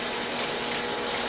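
Tap water runs from a kitchen faucet over food being rinsed under the stream, a steady splashing hiss that stays close and fairly loud without any talking.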